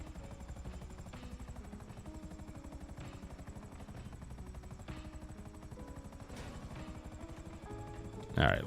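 A video game helicopter, spawned in, whirs with a steady rapid rotor chop throughout, close and continuous, with a brief louder burst at the very end.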